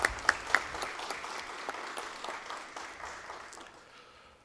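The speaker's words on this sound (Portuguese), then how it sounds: "e uma salva de palmas para o padre também." Audience applause for a priest at a municipal gathering, a few sharp claps up front followed by a steady wash of clapping that gradually fades over several seconds.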